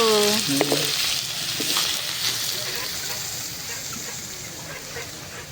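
Fish sizzles as it fries in a wok, a steady hiss of hot oil running throughout; a brief voice near the start.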